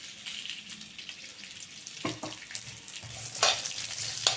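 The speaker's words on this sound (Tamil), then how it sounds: "இந்த டயத்தில் வெங்காயம் போட்டுக்கலாம். வெங்காயம் போடும்போது கொஞ்சம் எண்ணெய் தாராளமாக போட்டுக்கலாம்." Sliced onions frying in a generous amount of oil in a pan while cooking beans kottai kuzhambu, a steady hissing sizzle with occasional louder bursts and stirring scrapes, close up and without speech.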